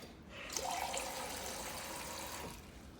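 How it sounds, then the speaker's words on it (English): Water pours into a container at a kitchen sink, a soft, close splashing trickle lasting about two seconds before fading. "I'm going to add a little more water."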